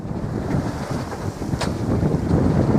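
Wind buffets the microphone aboard a sailboat at sea, heading into a headwind while tacking, a steady low rumbling roar with gusty swells and a faint wash of water, close and without talk.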